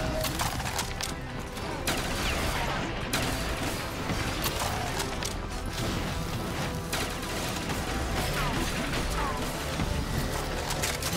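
A shotgun in a Black Ops custom zombies game fires in heavy, repeated blasts over a constant mechanical din of crashes and clatter, with no clear pause between shots.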